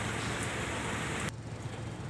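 Steady rain pours at a muddy pipe delivery site beside an Isuzu GXZ 360 trailer truck with a mounted crane, a dense close hiss that drops suddenly to a softer patter partway through.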